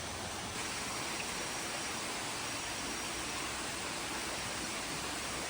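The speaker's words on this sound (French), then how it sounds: "la cascade du coup en fait c'est à gauche" A jungle waterfall in Bali roars as a broad, steady rush of falling water, constant and fairly close, with no voices over it.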